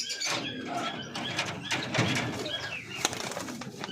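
Pigeons in a loft with white and fancy breeds kept in pairs, giving repeated cooing calls close by amid a busy mix of bird noise and occasional wing flutter, with no talking.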